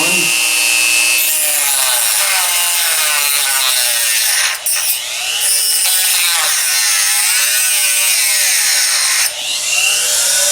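A Hyper Tough rotary tool cuts steadily through a workpiece, a loud continuous high-pitched whine with sweeping pitch changes and two brief dips where the bit eases off, no talking.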